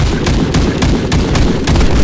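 Gunfire in the Warface shooter game: loud, rapid shots repeating at a quick steady pace, packed densely over a rumbling background with no pause.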